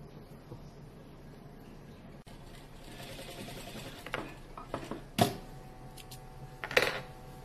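A sewing machine stitches a baby frock with a soft steady mechanical whir that is fairly quiet and close, joined near the end by a few sharper handling clicks and taps.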